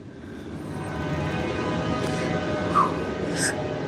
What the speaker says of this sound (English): I never knew how loud that thing was. All right, so that's how close that train is.